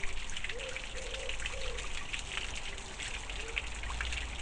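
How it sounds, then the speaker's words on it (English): A small waterfall in redwood woods trickles and splashes steadily at low volume, a constant soft wash of water with faint distant voices. "Oh, and we've got another little waterfall"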